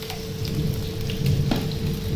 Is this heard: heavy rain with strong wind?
yes